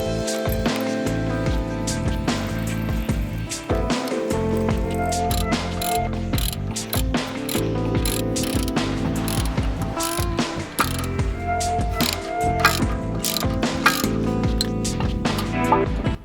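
A wrench ratchets steadily and continuously close up while work is done on the wheel bearing of an Alfa Romeo Mito, with quick repeated clicks and metallic handling noises and no talking.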